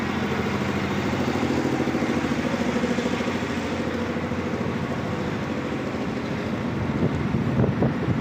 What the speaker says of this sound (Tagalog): Sarap ang simoy ng hangin guys.